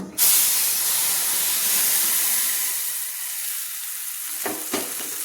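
A mustard and poppy seed paste with green chillies hits hot oil and turmeric, giving a loud burst of sizzle that settles into a steady, close hiss, with a couple of soft stirring clicks near the end.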